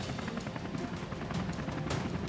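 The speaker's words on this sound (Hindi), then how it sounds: "चार सारंग हेलीकॉप्टर्स ने अलग अलग फॉर्मेशन में लोगों को अपनी ताकत का एहसास कराया।" Four Sarang helicopters fly in formation over the Aero India 2023 air show in Bengaluru, a faint, continuous rotor rumble with soft rhythmic thudding pulses heard from a distance.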